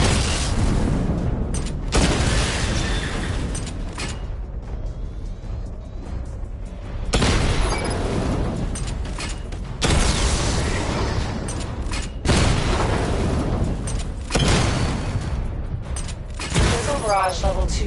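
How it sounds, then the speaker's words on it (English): Repeated heavy missile barrage explosions in a PS4 video game, loud booming bursts with mechanical clatter arriving in waves separated by short quieter gaps. "Charge the missile barrage to level 2 to destroy up to 4 targets at once."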